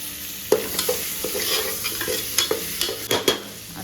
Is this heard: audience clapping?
no